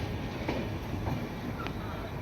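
The Paharia Express pulls out of Malda Town station, heard from on board as a continuous loud low rumble of rolling carriages with faint rail clicks.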